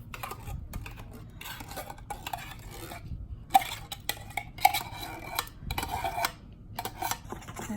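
A spoon clinks and scrapes in a pot as cream of mushroom soup is stirred into green enchilada sauce, giving irregular light taps and knocks at close range between quieter pauses.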